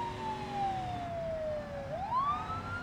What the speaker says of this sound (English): Let's go ahead and turn on my siren.